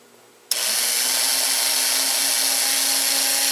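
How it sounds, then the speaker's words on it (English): Two small motors of a diesel service assembly spin up abruptly on a test stand after a moment of quiet, then hold a loud, steady high-pitched whirr with a faint hum underneath. "Looks like both motors are running very well."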